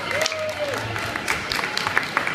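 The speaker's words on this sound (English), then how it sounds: "Big round of applause for Karen!" Audience applause at a VegFest celebrity Q&A, a busy wash of clapping with some sharper individual claps rising toward the end, mixed with faint crowd murmur and a brief tonal whine early on.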